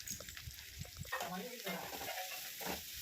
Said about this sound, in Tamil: இப்போ கேரட் நல்லா சேர்த்துட்டு நல்லா வதக்கி எடுத்துக்கணும்.